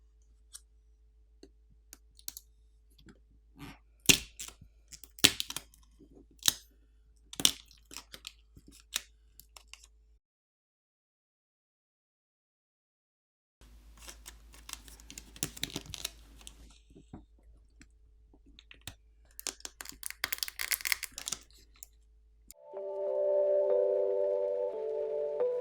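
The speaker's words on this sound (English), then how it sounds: "I guess it's not that easy to pry this one off even with the pull tab." Prying the battery off a OnePlus Nord N100 phone with its pull tab makes sharp close clicks, cracks and crinkling plastic snaps in irregular bursts, separated by a silent gap, with a steady tonal hum at the end.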